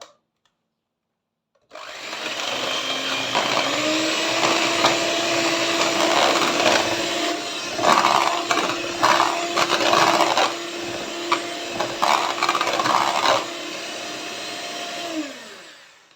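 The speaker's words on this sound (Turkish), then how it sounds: "şimdi şekerim ve yumurtamı köpürene kadar 3-4 dakika çırpacağım" Eggs and sugar being beaten until foamy with a steady, loud electric mixer whir that runs continuously for about thirteen seconds, its pitch dipping near the end as it winds down.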